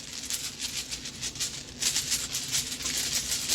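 A handful of dice for the Sushi Roll board game by Gamewright, shaken in a bag, makes a loud, rapid rattling patter with repeated bursts and a brief pause midway.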